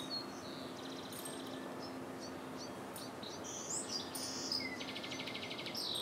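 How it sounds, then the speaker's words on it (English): Birds chirp and tweet outdoors, faint and somewhat distant, with scattered short high calls and trills over a quiet steady background hum and no talking. "I hear the birds."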